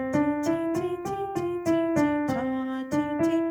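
Piano notes played by the right hand in a steady rhythm, about nine evenly spaced struck tones repeating one pitch, close and clear with no talking.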